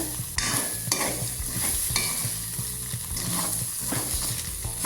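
Vegetables for uppuma, seasoned with pepper powder, sizzling steadily in a hot pan while a spoon scrapes and stirs in repeated rhythmic strokes, close and fairly loud.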